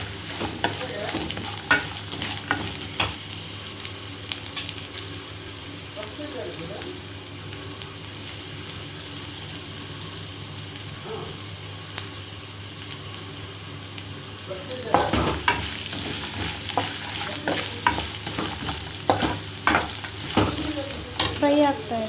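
Crushed garlic, peanuts and cumin frying in oil, a continuous crackling sizzle with repeated clinks and scrapes of a stirring spoon, busier toward the end.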